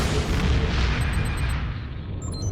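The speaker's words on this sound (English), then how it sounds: "Quite an explosion." An explosion in the Star Trek Online video game, a loud, deep, rumbling blast that fills the space and slowly fades, with faint electronic tones near its tail.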